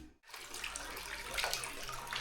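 Hot water pouring steadily into a vessel to soak a tired dog's sore paws, a close continuous splashing gush that stays even throughout with no voices.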